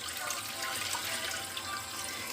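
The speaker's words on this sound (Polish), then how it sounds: "Teraz zalewam do 3/4 słoika wodą, ale ciepłą, bo słoiki są gorące." Warm water poured into hot glass jars of salted mushrooms, filling them three-quarters full, a steady bright rushing splash heard close and alone, with no talk.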